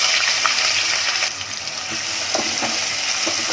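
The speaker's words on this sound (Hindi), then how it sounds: "इसको अच्छे से मैं जरा सुनहरी रंगत आने तक भूनूंगी" Onion fries in oil in a pan with a constant, loud, close sizzle, occasional stirring scrapes breaking through the dense hiss.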